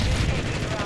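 Stormender JAK Voltstorm in Apex Legends firing bolts: a dense, continuous burst of crackling electric shots with a heavy low rumble, loud and close throughout the brief moment.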